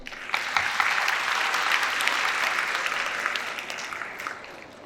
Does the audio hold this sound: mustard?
no